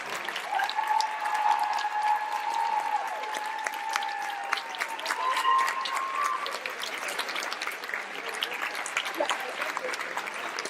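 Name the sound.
audience applause welcoming a speaker to the stage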